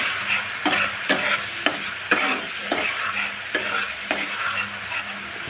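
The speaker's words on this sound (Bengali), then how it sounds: "এখন আমি মশলাটাকে ভালো করে পেঁয়াজের সাথে মিশিয়ে নেব।" Spices and onions are stirred in a sizzling frying pan for a bitter gourd and prawn stir-fry, a spatula scraping rhythmically about every half second over a continuous close hiss.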